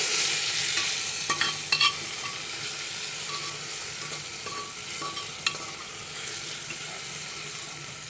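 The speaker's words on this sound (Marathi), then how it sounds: "चांगलं मिक्स करून घेऊया." A spoon stirs turmeric into an onion-tomato masala in a pan, giving a soft, steady scraping and sizzling with a few sharp clinks. There is no talk.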